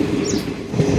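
Train no. 06190 from Trichy to Chengalpattu, nearing Villupuram station, gives a brief burst of loud, close wheel rumble and rattling carriage noise heard from on board.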